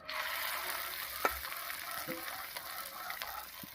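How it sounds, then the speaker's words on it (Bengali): Cabbage and duck egg fritters fry in oil left over from frying potatoes, giving a quiet, steady crackling sizzle with occasional light stirring taps and no talk. "এবারে এই আলু ভাজার তেলের মধ্যে বড়াগুলো ভেজে নিচ্ছি"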